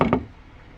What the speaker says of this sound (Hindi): खटखट की आवाज सुनाई दी। दरवाजे पर कोई था।